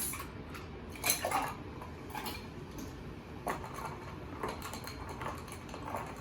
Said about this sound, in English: And then we're going to add some ice.